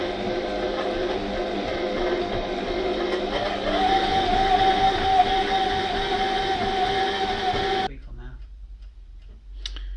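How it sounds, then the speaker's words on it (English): An electric mixer beats butter and sugar for ginger cookies, a steady motor whine with faint ticking that rises slightly in pitch partway through, then cuts off abruptly, leaving near silence. "we've done the initial beating of the butter and the sugar"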